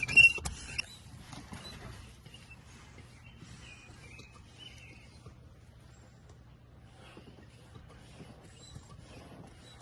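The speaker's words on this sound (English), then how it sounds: "Our little foot pump. We're gonna go ahead and throw some air in this" A small foot pump inflating a basketball gives a faint, repetitive creaking and squeaking, pumping steadily after one louder clunk at the start.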